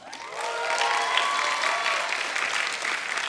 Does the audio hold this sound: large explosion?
no